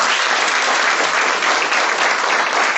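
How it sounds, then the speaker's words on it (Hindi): Listeners at a Hindi motivational talk burst into loud, continuous applause, a thick and even roar of many hands clapping together with no voices rising above it. "एक बार तालियों से स्वागत करें"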